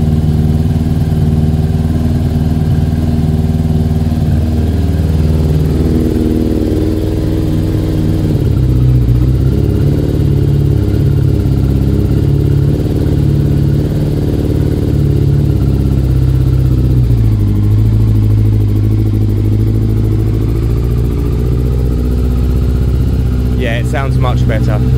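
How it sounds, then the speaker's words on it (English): A Yamaha Thunderace YZF1000, 1000cc motorcycle engine, runs steadily close by, its revs lifting as it warms up on choke, with a continuous loud mechanical drone and talk over it. "I think it's already sounding better because it's picking up revs."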